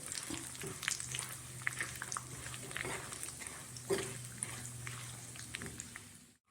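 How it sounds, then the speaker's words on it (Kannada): Cut coconut pieces fry in hot oil with a steady, soft sizzle, broken by occasional clinks and scrapes of stirring, fairly close and quiet, with no voices. "ಕೊಬ್ಬರಿ ಕಟ್ ಮಾಡ್ಕೊಂಡಿದ್ದೀನಿ ಅದನ್ನು ಎಣ್ಣೆಯಲ್ಲಿ ಕರ್ತ್ಕೊಳ್ಳೋಣ"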